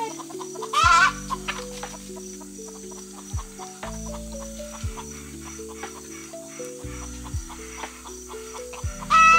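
Chickens cluck and squawk close by over a steady musical background, with several sharp calls at the start and end.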